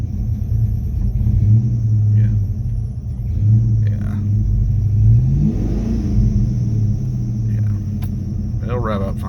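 A 1995 Ford Mustang GT V8 rumbles loudly nearby, with engine pitch rising and falling through a few revs, while a person talks briefly toward the end.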